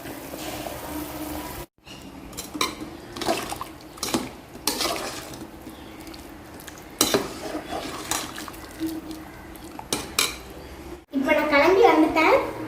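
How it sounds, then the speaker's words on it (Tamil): Rice poured into a pot of boiling water while making vegetable biryani, with metal pot and utensil clatter, stirring and bubbling liquid, interrupted by brief gaps, with a voice talking over it. "இந்த ஸ்டேஜில் நான் வந்து அரிசியை வந்து இப்போ ஆட் பண்ண போகிறேன்"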